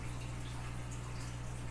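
Water pours steadily into an aquarium tank during a canister filter cleaning, a faint continuous splashing rush with a low steady hum beneath it, no voices.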